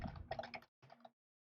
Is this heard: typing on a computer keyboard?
yes